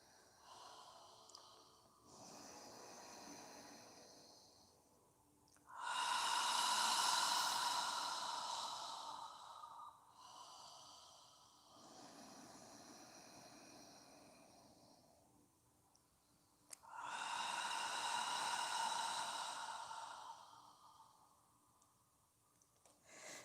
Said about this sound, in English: Try and fill your lungs completely and squeeze out every drop of breath on the exhale.